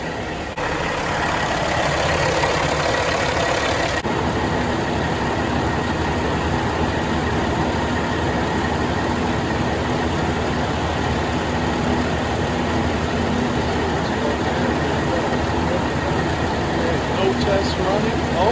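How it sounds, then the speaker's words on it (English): A Cat C15 diesel in a Kenworth W900 truck runs on a dyno after a full engine rebuild, a steady loud engine drone that holds throughout, with people talking over it. "Once everything comes up to temperature, then he's gonna run the motor and simulate weight on it."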